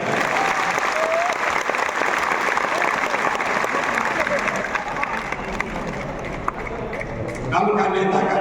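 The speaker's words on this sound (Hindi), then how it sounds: "जोर से ताली बजाएं।" Audience applause at a political gathering held to choose a party leader, dense sustained clapping from a large crowd filling the whole stretch, loud and continuous.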